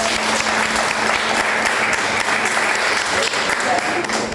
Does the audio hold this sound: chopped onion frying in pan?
no